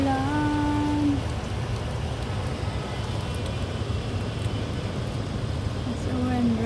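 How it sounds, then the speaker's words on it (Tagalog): Steady rain falls during a storm, a constant close hiss on the street, with a vehicle humming by and faint tonal whines near the start and end. "Umuulan, bumabagyo."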